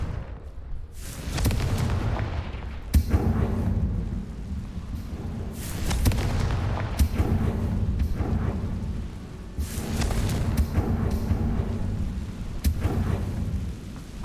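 Booming Confringo fire-spell blasts from the video game Hogwarts Legacy, a run of loud, rumbling explosions going off every couple of seconds over a continuous thundering backdrop, with no speech.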